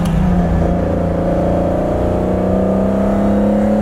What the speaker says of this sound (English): Wow, it has that nice Lamborghini sound.